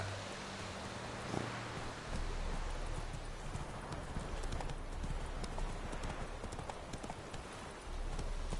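A horse gallops in The Witcher 3 in a quick, steady clip-clop of hooves under a constant background wash, faint and even throughout with no talking.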